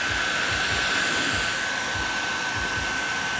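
A hot air tool runs on its high heat setting while warming a sun-faded plastic car bumper cover, giving a steady, even blowing whine with a low fluttering hum underneath and no voices.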